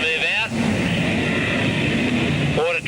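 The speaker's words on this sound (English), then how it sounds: "Water truck leaving the circuit." A water truck drives out of a sprintcar dirt track circuit at the Newcastle Motordrome in 1979, a steady engine drone with crowd ambience and a voice talking briefly at the start and end.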